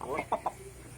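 A mimicry artist imitates a chicken's clucking with his voice, giving a few short, bright clucks in quick succession, fairly close and clear, with a faint background hum.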